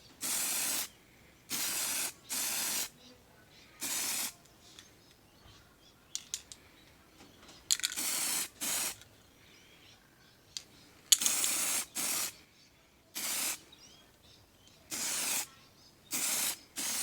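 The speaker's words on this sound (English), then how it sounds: "I'm going to paint the chassis this way." Short bursts of spray paint coat a 0 gauge model locomotive chassis, a Gresley A4, about nine separate hissing blasts of one to two seconds each at close range, with quiet gaps and faint background noises between them.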